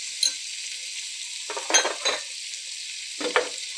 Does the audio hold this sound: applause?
no